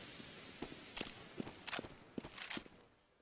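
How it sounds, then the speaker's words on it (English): Footsteps in Counter-Strike on the de_Nuke map, a faint series of soft, uneven steps over a steady hiss of game ambience, fading toward the end. "You can hear footsteps somewhere on this map."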